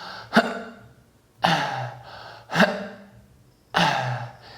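Four forceful, strained breaths pushed out against a closed glottis, each starting with an abrupt click-like catch and trailing into a rough hiss.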